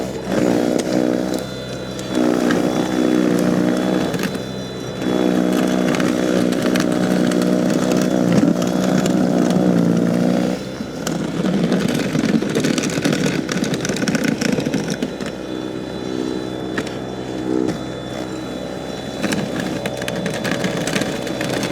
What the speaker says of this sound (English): that Power Smart 80 volt battery operated snow blower might do the trick